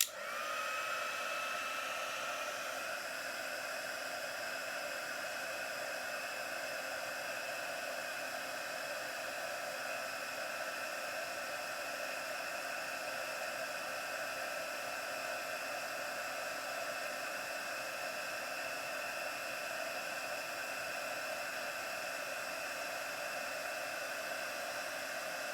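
A heat embossing tool blows hot air over a handmade card, a steady whooshing hiss with a constant whine that starts abruptly and runs unbroken and alone for the whole stretch.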